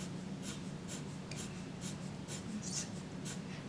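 Pencil strokes flick across paper while drawing hair in French Gray, a steady run of quick, soft scratchy swishes repeating at an even rhythm, close and fairly quiet throughout.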